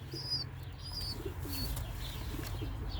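A young homing pigeon chick gives soft, faint cooing and thin chirping calls, a few brief calls scattered over a low steady background hum, close by and quiet.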